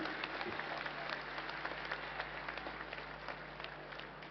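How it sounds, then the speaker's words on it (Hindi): Large crowd at an election rally in Bikaner clapping in response to the defence minister's speech: sustained, dense applause from many people, even and continuous, heard on its own without speech. "आप सब तालियां बजाकर बताइए सहमत हैं"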